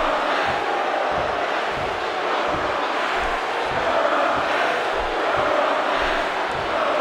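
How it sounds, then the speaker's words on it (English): A WWE video game arena crowd fills the scene with a dense, steady roar, and rhythmic chanting pulses through it at a regular beat. The crowd sounds constant and moderately loud, with no clear voices standing apart from it. "The crowd is saying you're a mess."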